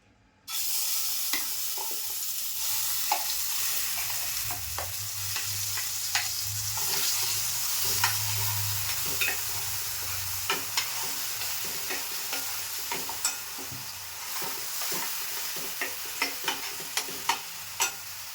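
A thick ground masala paste sizzles and spits steadily in a hot pan, with a spoon scraping and clicking now and then as it is stirred.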